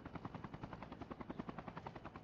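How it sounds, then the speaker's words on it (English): A military helicopter passes overhead in a shooter video game, its rotor producing a fast, steady chopping thump that pulses evenly and fairly close for about two seconds. "We got more choppers."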